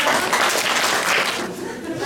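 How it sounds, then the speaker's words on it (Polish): Applause at a carol festival stage in Dębno: a dense, steady wash of many hands clapping, loud and close, thinning slightly toward the end, with crowd voices mixed in. "Wielkie brawa jeszcze"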